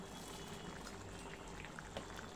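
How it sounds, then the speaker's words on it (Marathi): Water is poured into a pan of misal curry with cilantro, sugar and rock salt, giving a soft, steady liquid pour heard close up and fairly faint throughout. "आता काय पाणी ॲड करते."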